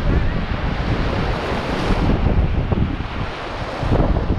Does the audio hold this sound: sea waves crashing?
yes